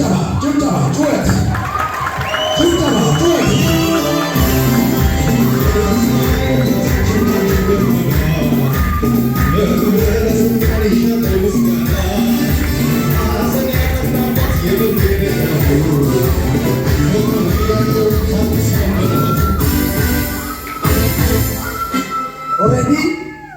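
A church congregation at a prophet's service claps and shouts, a loud, dense, sustained roar of rhythmic clapping, cheers and raised voices that fades only near the end.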